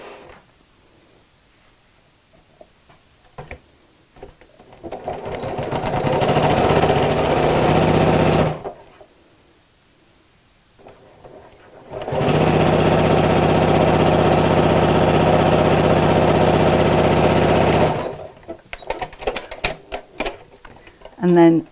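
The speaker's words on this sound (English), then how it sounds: "we're just going to sew it along the long side." A sewing machine stitching along the long side of a folded fabric strip, two loud sustained bursts of rapid mechanical whirring separated by a pause, with quieter handling clicks before and after.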